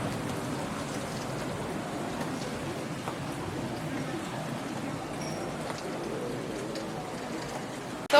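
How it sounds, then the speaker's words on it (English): Steady rain falls outdoors in a German village, giving a constant dense hiss of drops on surfaces that runs unbroken throughout, with no voices. "we are still waiting out here for rain to at least reduce"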